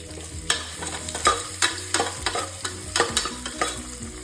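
Carrots and onions, with ginger and garlic, stirred and frying in a pan for tomato rice: a soft steady sizzle broken by sharp spoon scrapes and clinks roughly every half second.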